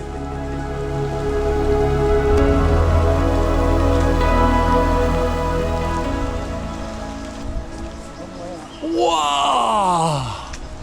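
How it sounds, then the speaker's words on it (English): Rain falls outdoors on Dartmoor moorland as a loud, steady hiss of drops, and a voice lets out a brief exclamation near the end. "it's raining, there"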